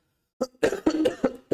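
A person coughs in a quick series of four or five close, loud coughs after a moment of silence.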